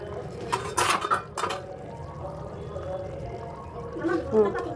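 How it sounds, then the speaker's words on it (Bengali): Mutton simmers in a pot as a metal spoon stirs it, producing a few bright clinks and scrapes against the pot over a soft bubbling background, while someone talks nearby. "ওই যে ফুটছে মাটন।"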